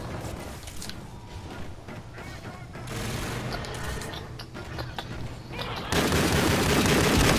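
Rapid gunfire bursts from a first-person shooter video game, dense and continuous with mechanical clatter throughout, growing louder and harsher near the end.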